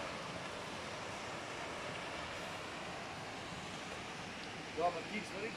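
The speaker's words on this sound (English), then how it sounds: "Here we are at the waterfall." A waterfall gives a steady, broad rushing roar heard from a short distance, continuous and even throughout, with a few brief handling bumps near the end.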